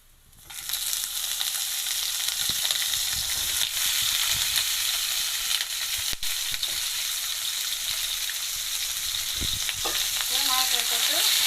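Raw plantain pieces dropped into a hot pan and frying, a loud sizzle that starts abruptly and holds steady, with brief stirring scrapes and clinks, close up and without speech.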